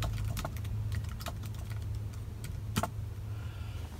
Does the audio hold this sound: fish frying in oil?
no